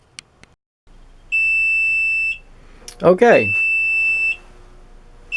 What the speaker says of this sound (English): So 4 minutes is up. It gave me a beep.